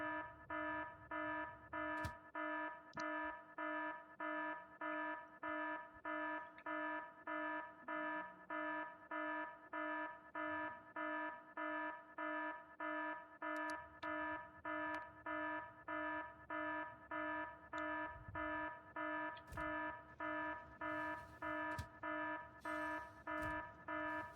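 Two in-game alarms from the factory-building video game Factorio beep in a steady, evenly spaced repeating pattern of bright electronic tones, loud and continuous for the whole stretch with no talking.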